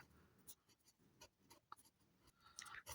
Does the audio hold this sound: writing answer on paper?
yes